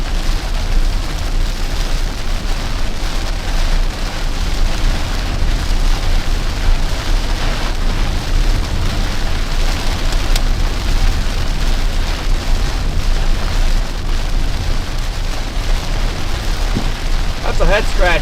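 Steady, dense rain and hail drumming on a storm-chasing vehicle during a hail storm near Linneus, Missouri, a loud continuous roar throughout with faint voices beneath.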